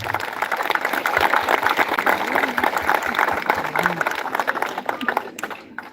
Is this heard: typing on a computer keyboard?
no